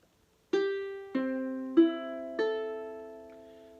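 A ukulele's four open strings sound one at a time, evenly spaced, each bright plucked note sustaining and decaying, soft and solo.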